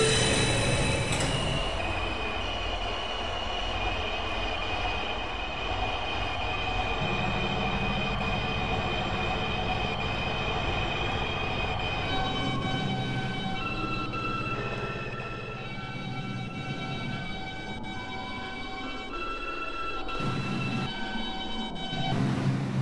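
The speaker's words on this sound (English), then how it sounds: "This is a Bronxbound 5 Express train." A New York subway 5 train runs in a continuous loud rumble of wheels and motors, with steady metallic tones and brief squeals, close and uninterrupted, with no talk.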